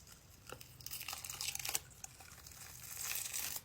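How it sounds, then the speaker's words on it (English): Special effects makeup is peeled away by pulling its zipper, giving a close crinkling, tearing rustle with a few sharp rips in the middle and a denser scraping stretch toward the end. "If I just pull the zipper, will it rip off?"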